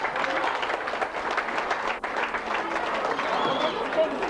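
Audience applause at a live concert with singers on stage, a steady dense patter of many hands clapping that fills the whole stretch at a loud level, with a short dip midway.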